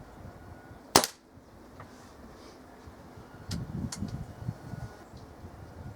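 Kral NP02 air rifle firing a single pellet at a paper target outdoors, one sharp close crack followed by a few seconds of quiet rustling and handling noise.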